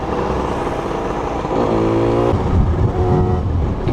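A 50cc moped engine fitted with a Voca Rookie exhaust revs hard and close by, with a buzzing, rising whine that climbs in pitch and then drops back in quick, loud bursts.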